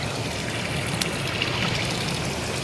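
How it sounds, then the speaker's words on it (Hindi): Cold mountain spring water flows out from under a stone in the Himalayan hills, a close, steady rushing trickle that continues evenly throughout. "पत्थर के नीचे पानी निकलता है"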